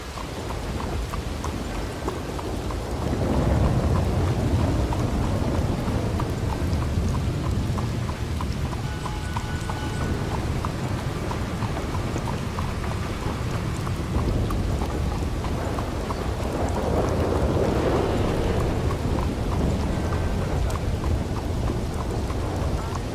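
Rain and thunder in the Red Dead Redemption 2 video game: a heavy, continuous downpour spattering on surfaces, with deep rolling thunder swelling twice and a faint clip-clop of hooves underneath.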